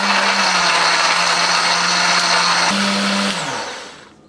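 A blender whirs loudly and steadily for a few seconds grinding spice paste with a little water, its motor pitch shifting briefly before winding down to a stop.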